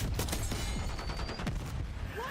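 Dense gunfire in the video game Black Ops 6 rattles through rapid automatic bursts and overlapping shots in a loud, continuous battle mix with whizzing effects.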